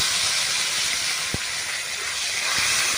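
Raw mango pieces frying in fish oil in a pan for a village-style curry, a steady loud hiss and sizzle throughout with a couple of soft clicks from stirring.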